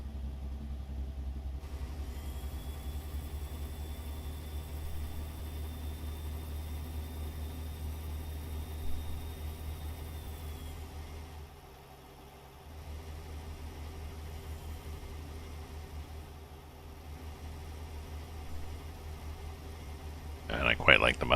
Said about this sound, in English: So you can hear the burble, burble, burble of the Jake on this.